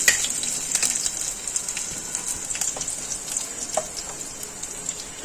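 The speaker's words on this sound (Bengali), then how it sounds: "তেলটা আমার গরম হয়ে গেছে আমি রসুনটা আর শুকনো লঙ্কাটা দিয়ে দেবো" Steady crackling sizzle of garlic and dried red chilies frying in hot oil, a dense hiss with scattered pops, continuous and fairly close with no talking.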